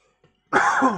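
A single sharp cough from a person outdoors beside a Bunya pine in Australia, a brief close harsh burst after a moment of near silence.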